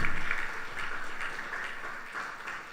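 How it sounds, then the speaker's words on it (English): An audience at a Krishna temple anniversary service claps for the new temple executive, a light, fairly faint patter of applause that carries on steadily and sounds like a modest crowd in a hall. "So you all could give them a round of applause."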